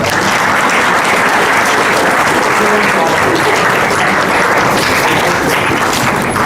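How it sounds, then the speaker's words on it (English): An audience at a live TEDx event bursts into loud, dense applause that stays sustained and steady throughout, with no gaps. "Ladies and gentlemen, please give them a big round of applause."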